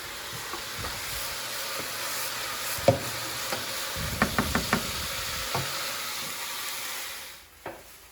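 Coconut stirred and roasted in a pan: a soft, continuous dry sizzle with several sharp clicks and knocks of a utensil against the pan, a quick cluster near the middle, then a fading tail.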